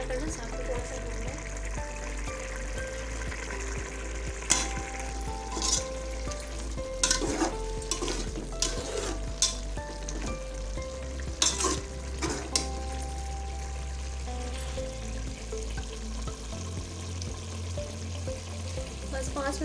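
Spinach and mutton sizzling in a pan over high heat for palak gosht, a steady frying hiss with repeated scraping and clattering of a stirring spoon, close and loud.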